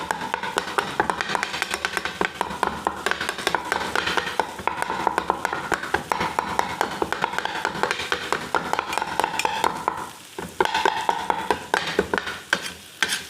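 Heavy metal spoons rapidly chop and clatter on a hot griddle while mutton kata kat cooks, a fast, steady, loud rhythm of sharp clinks over a low sizzle, with a short pause before resuming.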